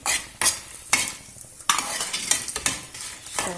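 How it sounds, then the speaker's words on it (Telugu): Fenugreek seeds, being dry-roasted for Andhra-style curry leaf powder, rattle and sizzle in a pan while a spatula scrapes and stirs them in quick, close, repeated strokes, with no talking. "కొంచెం మెంతులు తీసుకున్నాం కదా, అవి కూడా లైట్గా ఫ్రై చేసి"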